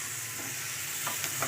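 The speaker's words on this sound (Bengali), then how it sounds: "আবার একটু নাড়াচাড়া করব" Potatoes stirred in a pan with fried onion, ginger, garlic and bay leaf for an egg curry, a soft steady sizzle with a few quiet scraping strokes near the end, no voices.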